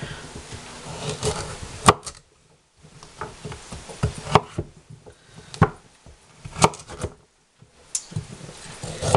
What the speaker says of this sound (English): What I'm doing is cutting the carrots basically in half, or roughly in half.